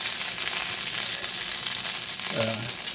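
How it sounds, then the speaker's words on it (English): Chicken pieces sear in a Lodge cast iron pan, giving a steady, close broadband sizzle with no pause over three seconds, while a brief low scrape or clink sounds near the end. "we're just getting it browned, kind of like we sear a steak or something"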